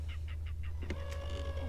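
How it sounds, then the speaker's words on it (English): Birds call near the water during a kayak fishing trip, giving a quick series of four or five raspy, cackling calls at a steady pace over a constant low hum, followed by a few sharper clicks, with no speech. "The birds are just laughing at us."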